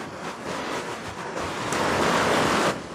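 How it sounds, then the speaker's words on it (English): Rapids on a nameless black river in Karelia rush in a continuous broad roar that swells slightly louder partway through, with no talking over the flowing water. "a nameless black river in Karelia with rapids"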